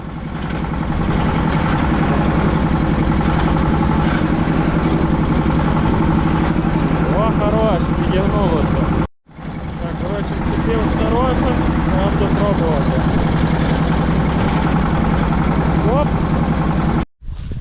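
A small tractor engine runs steadily and loudly while towing a Hyundai Elantra by a rope, with a steady chugging hum that cuts out briefly twice.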